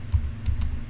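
A short run of a few quick keystrokes on a computer keyboard as a ping command is entered, close and clear over a low background hum.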